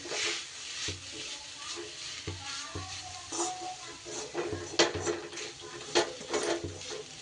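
Soft scraping and clinking of a spoon stirring milk into patishapta batter in a bowl, a steady, fairly quiet rhythm of strokes with occasional brighter taps against the rim.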